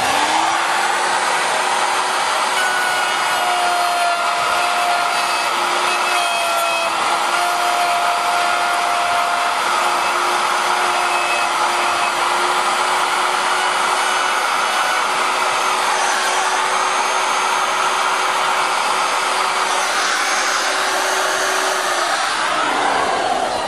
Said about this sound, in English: we'll run that router